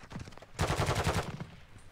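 Shotgun fire in a Call of Duty match: a few light shots, then a dense, loud volley of rapid blasts lasting under a second before fading out.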